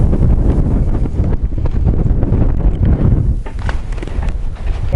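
Strong, steady wind buffets the microphone on a mountain top at Mt Wellington, Tasmania, with a constant low roar and rumble, loud and close, with no voices.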